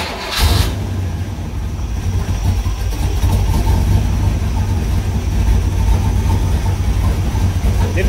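A 1966 Chevrolet Corvette V8 runs just after an oil and filter change, a loud, steady close-up idle rumble that starts abruptly and holds evenly, with no audible lifter clatter.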